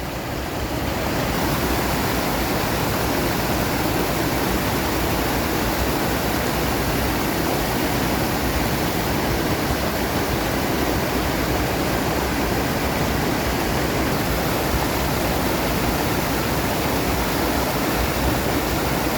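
Water pours over an overflowing weir in rural Thailand, a loud, unbroken roaring rush that stays dense and steady throughout, close by and with no voices.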